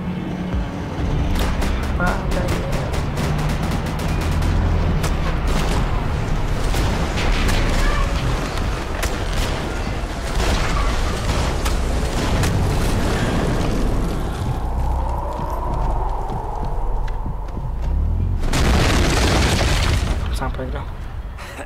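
Gunfire rattles through a Max Payne 3 firefight, with rapid sharp shots, booms and debris crashing continuously under shouted game dialogue, ending in a loud burst.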